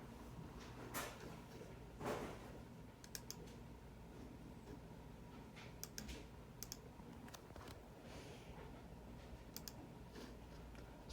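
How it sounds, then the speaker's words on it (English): Steady typing on an old 2012 Toshiba desktop keyboard, with heavy keys clacking in a continuous rhythm and a few sharper clicks standing out, close by and alone. "typing does feel a little heavy, keys kind of feel heavy"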